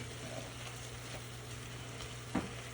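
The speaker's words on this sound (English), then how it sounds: "we're just going to simmer this until those onions begin to be translucent" Onions for jambalaya sizzle in a pan with a steady, quiet fry and crackle beneath a low constant hum, broken near the end by a brief clunk of a stirring utensil.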